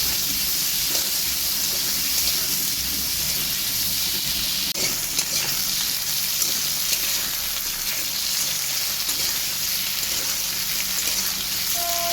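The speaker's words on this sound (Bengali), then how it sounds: "মাছের তেলে আলুগুলো ভেজে নেব।" Potatoes frying in leftover fish oil in a pan, a steady, close sizzle running throughout with occasional soft clicks of stirring.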